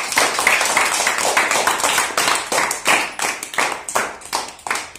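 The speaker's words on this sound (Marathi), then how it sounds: "सगळ्यांनी जोरात टाळ्या वाजवा त्याच्यासाठी." A class of students claps loudly for a classmate, a fast and dense run of hand claps with uneven pulses that lasts about five seconds.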